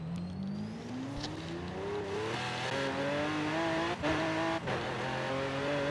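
A Lamborghini Huracán doing a wheelie, its engine revving hard and climbing in pitch through several gear shifts, loud and close, with brief dips between shifts.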